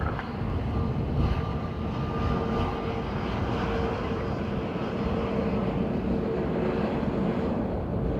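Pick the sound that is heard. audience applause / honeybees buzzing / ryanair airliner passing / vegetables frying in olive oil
ryanair airliner passing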